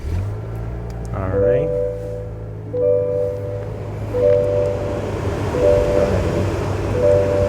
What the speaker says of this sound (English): We're going to start the vehicle here.